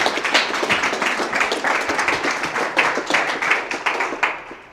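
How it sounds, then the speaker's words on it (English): Applause from a small audience at an entrepreneurs' event as speaker Jennifer DiMotta is called up, brisk, distinct claps close by with a fairly even rhythm. "round of applause for Jennifer DiMotta"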